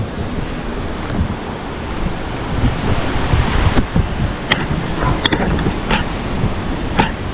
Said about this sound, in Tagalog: Lakas pa rin ang alon.